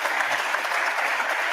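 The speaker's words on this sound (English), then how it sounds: "Big applause for Vlad Jurayenko." A congress audience gives dense, steady applause for Vlad Jurayenko, a brief even wash of clapping heard at moderate volume in a hall.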